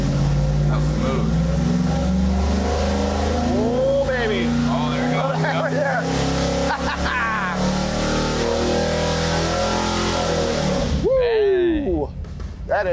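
Small block Mopar V8 with upgraded induction and valvetrain held at high revs on a dyno, a loud sustained roar with rising and falling pitch sweeps, then cutting back sharply near the end.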